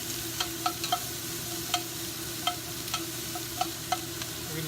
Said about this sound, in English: We're going to saute the onions for a little bit